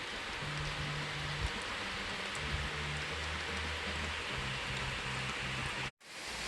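Steady, heavy rain pouring down as a dense continuous hiss, with a low hum underneath, cutting off abruptly near the end.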